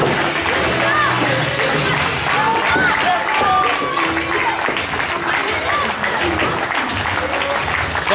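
Wrestling crowd at a ten-man tag team no-disqualification pro match applauding and cheering steadily throughout, a dense wash of clapping with scattered shouts and whistles, while a commentator talks over it.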